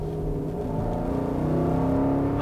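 A direct-injected V8 engine of about 390 horsepower, paired with a 7-speed automatic, revs steadily and loudly up close, a continuous deep throbbing growl that holds and builds slightly toward the end.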